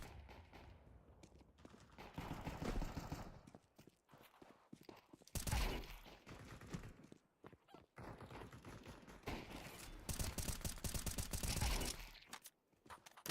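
Gunfire in a first-person shooter video game, with loud bursts of rapid automatic shots and clustered reports coming in several waves across the stretch.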